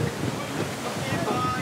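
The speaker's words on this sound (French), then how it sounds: "c'est un peu effrayant de voir des grosses voiles qui claquent comme ça" Large sails on the tall ship Hermione flap and crack in a strengthening wind at night, a continuous rushing, gusty roar with wind buffeting the microphone and sea noise throughout the short stretch.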